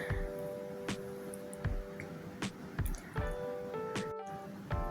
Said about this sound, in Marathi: आता याच्यामध्ये आपण ज्या शेंगा बॉईल करून घेतलेल्या आहेत त्या घालू आणि चांगलं व्यवस्थित मिक्स करून घेणार आहोत